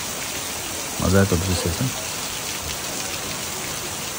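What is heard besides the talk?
light rain drizzling in the mountains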